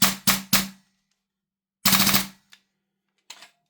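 A Noveske Ghetto Blaster airsoft rifle fires three quick sharp shots, then a longer rattling burst after a pause, followed by a couple of faint trailing clicks, close and loud with no talking.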